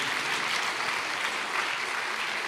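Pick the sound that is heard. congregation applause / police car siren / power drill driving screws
congregation applause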